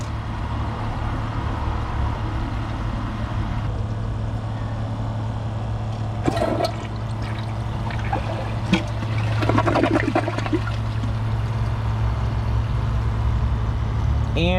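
A Kohler Class 5 toilet flushing, with a steady rush of water running throughout and brief gurgling, draining bursts partway through, heard close in a bathroom.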